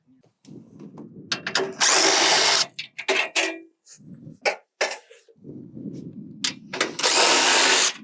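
A power tool with a 10mm socket backs out shipping bolts on a one-way gravity gate, running in two long, loud whirring bursts separated by short clicks and handling noises, with no talk.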